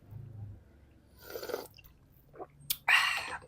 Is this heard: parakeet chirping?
no